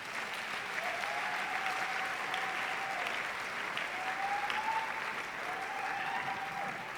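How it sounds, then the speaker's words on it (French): A church congregation at a Lubumbashi service applauds continuously in a large room, steady even clapping, while voices call out briefly over it. "Applaudis pour Jésus-Christ."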